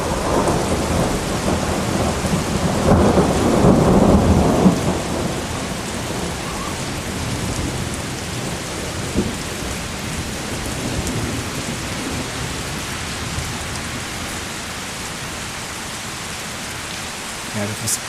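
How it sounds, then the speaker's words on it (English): Thunder from an intra-cloud lightning strike in a thunderstorm over Oxford rumbles low and loud early on, then fades under steady heavy rain that hisses on surfaces for the rest of the stretch. "that was intra-cloud strike, so the storm doesn't seem to be very organized"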